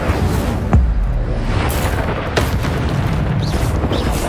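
In Hogwarts Legacy the Incendio fire spell bursts with a loud boom, followed by more thuds and whooshes under steady combat noise and brief voice sounds.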